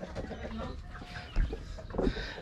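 Pet chickens cluck at close range in a backyard coop where hens are laying, short throaty clucks over a busy background, with a couple of louder knocks near the end.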